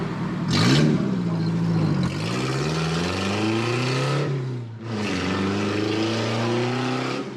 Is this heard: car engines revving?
yes